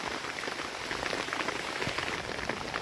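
Steady rain falls on an open sugarcane farm field, a dense, even hiss of drops on the surface that holds at a constant level throughout, with no voices.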